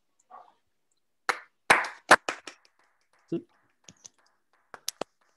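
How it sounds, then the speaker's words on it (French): Online seminar participants with microphones on give sparse, scattered claps for the speaker Kevin, a few separate bursts and clicks rather than full applause, with voices briefly in between. "On peut mettre nos micros et l'applaudir, par exemple."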